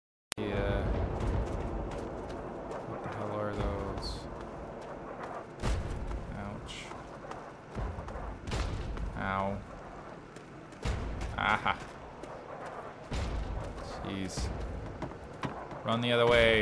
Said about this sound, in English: Run towards the explosions.